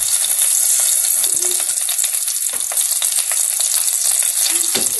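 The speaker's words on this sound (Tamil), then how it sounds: "இதெல்லாம் வதக்கலாம்." Ginger, curry leaves and asafoetida sauté in hot oil in a pot, a dense bright sizzle that runs continuously, with a couple of soft stirring scrapes breaking through.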